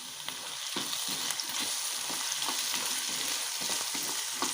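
Potatoes sauté with salt in a hot pan, a dense continuous sizzle and crackle close up, with repeated stirring scrapes throughout.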